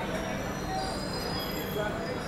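Dakshin Express pulling out of Mathura Junction railway station, a steady broadband rumble of rolling wagons with faint wheel squeal throughout, close and continuous.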